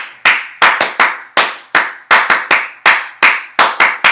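Rhythmic hand clapping replaces the letters of the Bingo song in a music lesson, with about a dozen crisp, close claps grouped in uneven bursts over a few seconds and nothing else audible.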